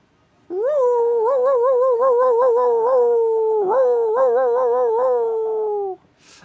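A person imitates a dog howling, voicing it on an inhale as one long, loud, wavering tonal howl that lasts about five seconds, alone and close to the microphone.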